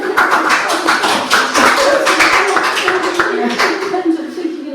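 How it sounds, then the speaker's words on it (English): Applause at a Ross-on-Wye town council meeting, a modest group clapping close by in a room with sharp, irregular hand claps that continue steadily and begin to thin out at the end, with voices murmuring underneath. "Can we have a round of applause?"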